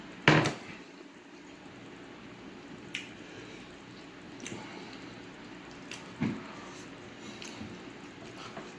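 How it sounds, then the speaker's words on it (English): Crunchy Circle K fried chicken is chewed close to the mic, with a few scattered crisp crunches and clicks separated by quieter pauses, no talk. "hear that crunch?"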